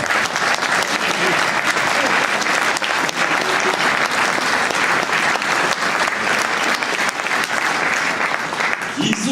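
Audience applause at a French departmental election victory event, dense sustained clapping from a large crowd throughout, with some voices mixed in.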